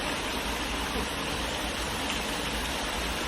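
Water from a dam rushes in a steady, broadband roar, loud and continuous like a strong stream or small waterfall, with no voices.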